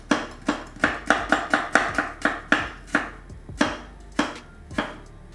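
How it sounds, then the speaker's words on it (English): A knife slicing garlic thinly on a cutting board: a steady run of crisp, close chopping taps, quick at first and then slowing into spaced strokes, with no talking. "We're just gonna cut really in thin slices the garlic"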